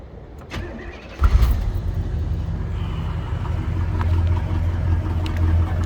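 1971 Oldsmobile Cutlass SX convertible with a 455 V8 and four-barrel carburetor cranks briefly, fires with a sharp burst, then settles into a deep, loud, rumbling idle close by.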